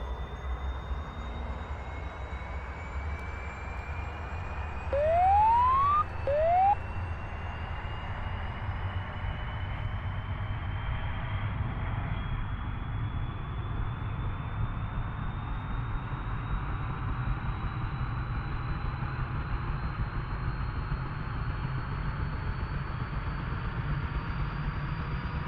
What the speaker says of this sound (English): Engine spooling up. You can watch our RPM coming up here. The rotor's starting to turn.